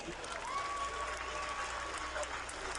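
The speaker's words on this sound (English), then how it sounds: "Let's have another round of applause for Jimmy." Crowd applause at a baseball stadium during a Father's Day ceremony, a steady distant wash of clapping and cheering with some talk mixed in.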